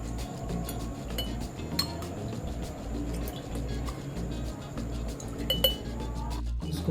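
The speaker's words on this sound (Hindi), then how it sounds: "इसको बर्फ से भर देंगे।" Ice cubes clink and clatter into a glass for a homemade mint margarita, a steady run of bright hard taps with a few louder knocks, close and alone over a low background hum.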